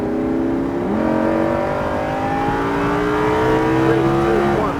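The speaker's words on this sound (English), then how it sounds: "Start to get close to that second green cone as you add gas and accelerate down the straightaway" A Lamborghini Huracan accelerates hard down a race track straightaway, its loud engine note climbing steadily through the gears with rising, sweeping tones, close and continuous throughout.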